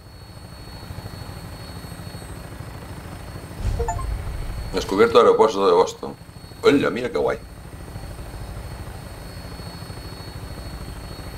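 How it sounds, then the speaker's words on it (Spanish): Helicopter in the video game Fallout 4, a faint steady rotor and engine hum approaching a Boston airport, heard under two short bursts of speech. "Nos estamos aproximando al aeropuerto."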